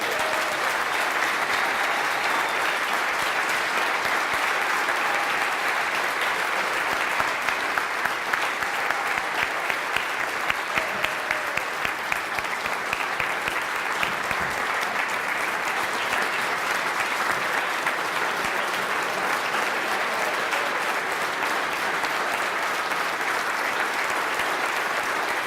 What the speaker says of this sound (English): Now you may applaud.